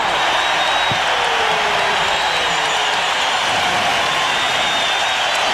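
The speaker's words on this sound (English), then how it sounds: "Listen to this crowd." Thousands of fans at a 1994 Jazz versus Rockets playoff game keep up a sustained, loud roar that fills the arena evenly from start to finish.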